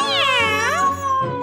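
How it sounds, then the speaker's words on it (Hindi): A cat meows loudly and close up in one long, wavering, rising-and-falling call that slides into a second, shorter meow, heard alone with no talk. "ये तो बिल्ली है।"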